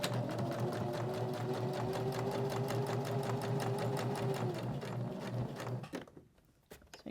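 A sewing machine runs steadily, stitching around the edge of a fabric journal cover with a fast, even mechanical whir. It stops near the end, leaving a short quiet tail with a few faint handling sounds.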